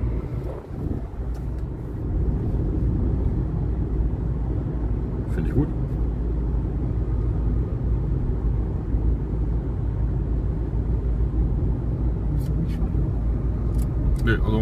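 A used car driving on a country road, heard from inside the cabin as a steady, loud low engine and road rumble that holds evenly for the whole stretch, with a few faint clicks.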